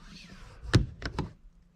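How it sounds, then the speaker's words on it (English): Car doors shut outside a shop where a 2022 Dodge Ram is being tinted, two or three muffled thunks spaced about a quarter second apart, faint and distant over a low background hum. "I just heard car doors shut."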